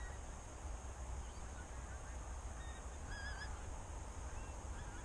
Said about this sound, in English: But there's a lot of geese out here at the moment